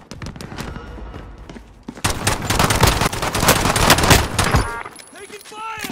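Dense video-game gunfire in Call of Duty Warzone: rapid automatic bursts and sharp shots that swell into a loud, continuous fusillade, with game voice lines heard among the shots.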